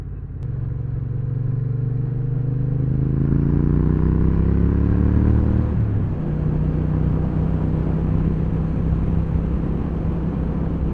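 A Triumph T120 motorcycle ridden along a road gives a loud, steady engine drone with wind rumble; the engine note climbs and falls as the revs rise, then drops sharply around a gear change midway.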